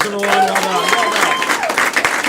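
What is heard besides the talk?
audience applause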